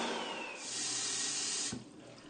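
A toilet flushes with a loud rush of water up close, then the gush suddenly drops off to a quieter trickle.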